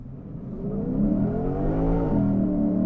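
A 2022 Lexus IS 500 V8 launching hard from a torque brake with traction control off, a loud, continuous engine roar rising in pitch as the tires skid, close and steady for about three seconds with no talking.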